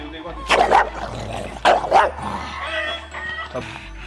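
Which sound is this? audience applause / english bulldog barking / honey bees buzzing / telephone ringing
english bulldog barking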